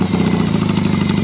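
A Yamaha XS650 motorcycle engine, just revived after three years without starting, idles just under 1,000 rpm, a loud, close, steady low throb with even pulsing and no voices.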